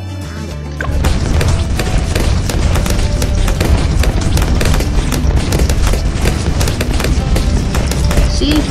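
Bomb explosions in the Bloons TD6 video game fire in a rapid, relentless barrage of loud booms and crashes, starting suddenly about a second in and continuing densely to the end, with a player's voice occasionally talking over them.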